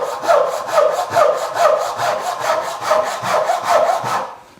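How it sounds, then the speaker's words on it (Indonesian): Rhythmic rasping strokes of a Japanese pull saw cutting through wood, about ten even back-and-forth pulls, close and loud, then stopping. "gergaji tarik seperti gergaji Jepang ini"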